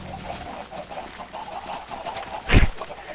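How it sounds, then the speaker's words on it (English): Chickens in the video game Minecraft cluck and flutter in soft repeated bursts, with a brief loud thump or hit near the end, and no talking. "Get out of the way, chickens!"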